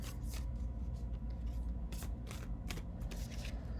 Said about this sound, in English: I'm gonna go ahead and pull out just a general card. So let's see, just shuffle.